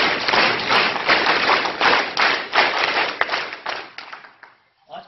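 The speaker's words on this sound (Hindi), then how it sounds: "उनके लिए भी हम ताली बजाएंगे" Audience clapping at a district event near a shooting range in Madhubani, a dense, steady burst of many hands that holds for about four seconds, then fades out to near silence.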